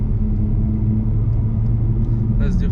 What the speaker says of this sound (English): I'm gonna test drive it and gonna go full throttle and see.